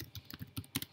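Clicky strokes on a computer keyboard while a short message is typed, a quick irregular run of key presses, close and fairly quiet with brief pauses between bursts.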